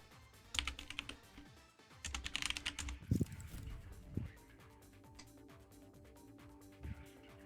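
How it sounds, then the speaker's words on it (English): Typing on a computer keyboard, quick irregular bursts of close key clicks with short pauses between them and a few louder thumps, no talk over it. "he's typing in the Discord chat."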